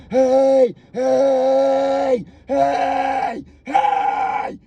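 Four loud, sustained yells, each held steady with a rough, gritty false-chord distortion over the tone, separated by brief pauses.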